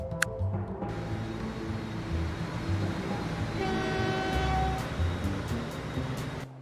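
A train running in the Transport Fever 2 video game, with a steady rolling rumble, a horn-like tone partway through and faint chimes, all continuous and moderately loud.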